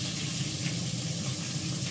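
Potatoes and green chillies frying with cumin in a hot pan, a steady close sizzle and hiss that runs evenly throughout with no talking.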